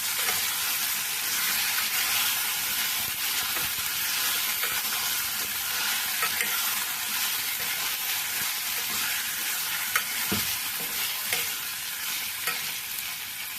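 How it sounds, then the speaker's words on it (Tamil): Chicken pieces sauté in hot oil with curry leaves and turmeric for a chicken egg gravy, giving a continuous close frying hiss broken by scraping stirs and occasional knocks of the utensil against the pan, without speech. "அப்படியே வதக்கிட்டு நல்லா எண்ணெயிலே வதங்கட்டும்"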